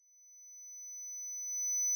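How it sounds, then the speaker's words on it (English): A simulated tinnitus sound: a pure, high-pitched ringing tone, steady and continuous, slowly growing a little louder. "Ringing."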